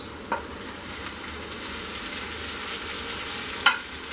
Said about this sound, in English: Now we'll add the tomatoes.